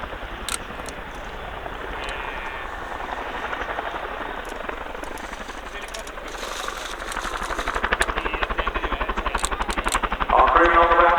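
An RAF Chinook twin-rotor helicopter comes in to land at an air show, its rapid rotor thump loud and steady, swelling nearer toward the end.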